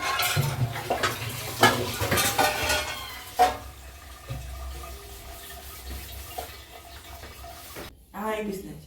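Dishes and pots clatter during kitchen cleanup after cooking rui fish. Scattered clinks and knocks ring out near and fairly loud at first, then turn to softer handling, with faint voices in the background.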